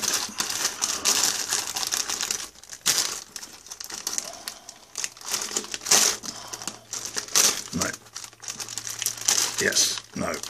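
Paper packaging of a 2016 MRE beef ravioli in meat sauce meal being opened, with loud close crinkling, tearing and rustling in bursts and pauses, while a person talks in between.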